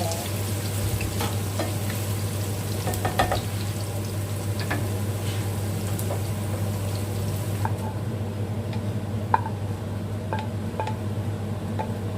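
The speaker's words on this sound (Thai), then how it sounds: "เจียวหอมแดง" Shallots frying in hot oil in a pan for pad thai, giving a continuous dense sizzle with scattered small pops and a low steady hum beneath, close and even in level throughout.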